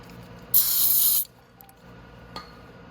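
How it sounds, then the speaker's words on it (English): A single sustained spray of carburetor cleaner from an aerosol can hisses loudly for under a second, then stops; a quiet clink follows in a calm workshop. "I'm gonna spray that with carb cleaner."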